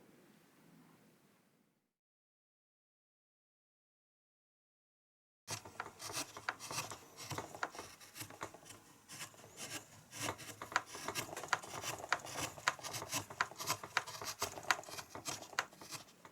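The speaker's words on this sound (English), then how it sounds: "Here I am using the index hold to carve the top side of the wings." A wood carving knife held in an index grip shaves the top side of a carved piece's wings, giving soft, rapid scraping and rasping strokes that follow a brief faint noise and a few seconds of silence.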